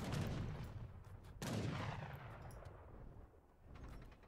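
Mortar and heavy cannon fire boom in an Age of Empires III battle, with two strong blasts about a second apart followed by rumbling, overlapping gunfire and decaying explosions, no voices.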